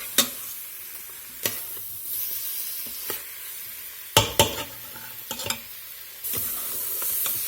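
Seasonings for Creole jambalaya toast and sizzle in an Instant Pot with a steady close hiss. Scattered clanks and scrapes from a stirring utensil are heard, with no talking.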